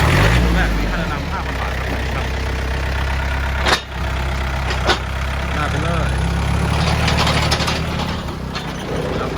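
A used Yanmar 49 hp farm tractor, fitted with a front blade and a rear plough, runs at a steady close idle with a deep, even engine hum and brief mechanical clunks, and a voice is faintly present.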